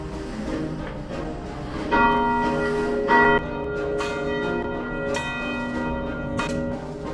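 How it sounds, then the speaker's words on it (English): A church bell rings out for Easter, its repeated strikes sounding at about one-second intervals with long, humming overtones that overlap and sustain, fairly loud against a steady background and with no voices present. "I thought I'd ring the bell and let our neighbors know that Christ is risen."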